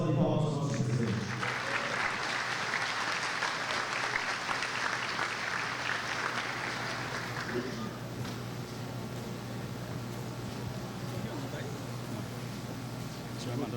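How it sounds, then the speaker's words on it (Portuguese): Audience applause for a union president at the opening of a mental health lecture series in São Paulo, a dense burst of clapping that swells for several seconds, then thins into scattered claps and room murmur. "Uma salva de palmas ao nosso presidente."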